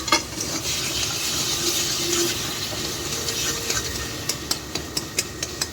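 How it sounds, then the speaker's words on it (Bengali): Taro greens cooked with whole hilsa fish heads are stirred in a pan, a steady sizzle with scraping stirs running throughout and sharper ladle knocks near the end. "এই হলো নাড়ার স্টাইল, সরিয়ে সরিয়ে মাথা সরিয়ে সরিয়ে"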